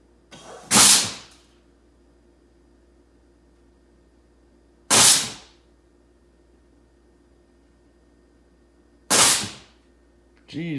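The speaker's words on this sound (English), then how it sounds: "Jeez, that exhaust is so loud." Dodge SRT4 car exhaust, loud, in three sharp bursts spaced about four seconds apart over a low steady idle hum, each burst rising abruptly and fading quickly.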